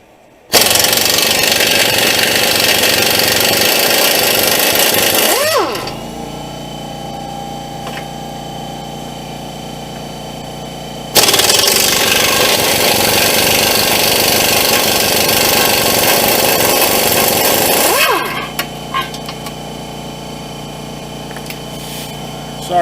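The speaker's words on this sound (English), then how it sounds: "Sorry about that compressor." An air compressor runs loudly in a garage during work on a rusty 2008 Ford Escape: two long sustained bursts of steady mechanical drone, each cutting off to a lower hum, with no talk.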